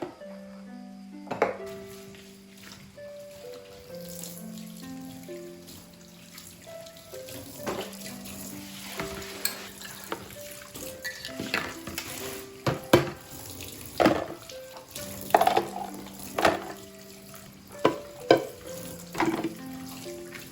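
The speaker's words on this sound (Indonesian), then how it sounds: "Di sini lanjut aku mau cuci piring terlebih dahulu ya teman-teman." Dishes are washed at a kitchen sink: running tap water flows steadily while plates, pots and utensils clatter and knock in irregular bursts, busier toward the end.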